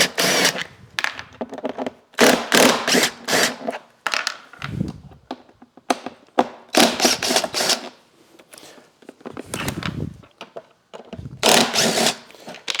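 An impact wrench loosening the speaker screws on an Indian Motorcycle side touring trunk, firing in several short, loud, rattling bursts separated by pauses, close by.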